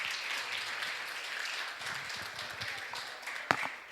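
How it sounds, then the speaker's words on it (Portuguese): Audience applause at a talk, moderate steady clapping from a room of people with a few sharper individual claps standing out, including one loud nearby clap near the end. "Uma salva de palmas, por favor."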